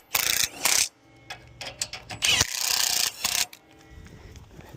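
A ratchet wrench driving self-tapping screws into the frame plates of a hitch adapter on a John Deere X350 lawn tractor, with rapid clicking bursts separated by short pauses, close and clear.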